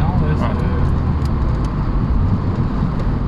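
Renault 21 2L Turbo, a 1980s sports sedan, driving on the road, its engine and road noise a steady close rumble beneath people talking inside the car.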